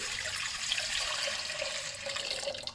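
About a litre of water runs into a saucepan for a ginger and brown sugar remedy, a steady, close rushing stream that holds without a break for the whole moment.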